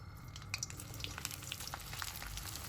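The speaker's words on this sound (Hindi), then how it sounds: "ऑयल जब गर्म हो जाए भिंडी ऐड करेंगे।" Okra frying in about a cup of hot oil, a steady close sizzle with scattered crackles and pops, alone without talk.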